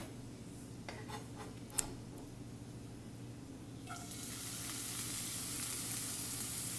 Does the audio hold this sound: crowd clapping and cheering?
no